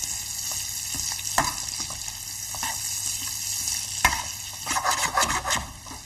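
Peppers cooking gently over low heat in a pan give a steady, soft sizzle and fry, with occasional stirring scrapes and clicks of a utensil, sounding close up.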